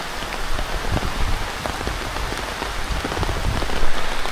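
Morning rain falls steadily on surfaces nearby as a dense, even patter of drops with no voices.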